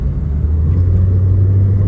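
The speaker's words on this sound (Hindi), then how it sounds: "एक दफ़ा गाड़ी को दबाते हैं" A 2010 Toyota Yaris on the road at speed makes a steady low engine drone and road rumble from inside the cabin as it accelerates, with no talking.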